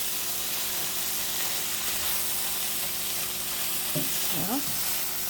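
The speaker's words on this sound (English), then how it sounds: "I'm browning it now and stirring the vegetables in" Ground turkey browns in a skillet with vegetables stirred in, giving a steady close sizzle throughout, with a brief voice near the end.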